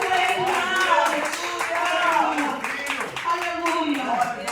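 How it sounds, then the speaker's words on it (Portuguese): A church congregation claps along during an evening worship service, rhythmic hand claps mixed with singing or calling voices throughout. "Aplauda o Senhor nessa noite."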